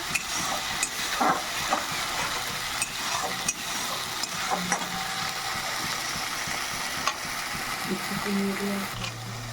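Spices for a tangra fish oil curry fry in a pan with a low, steady sizzle, broken by the scrape and clack of stirring at irregular moments.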